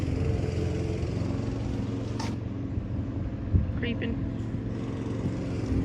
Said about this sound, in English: Everybody seems to be out mowing their lawn.